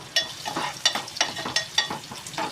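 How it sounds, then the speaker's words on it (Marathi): Garlic, ginger and chopped green chillies sautéing in a pan for paneer bhurji, heard as a rhythmic series of about seven scraping stir strokes over a light sizzle, close up with no talking. "असे लसूण परतून घ्यायचे"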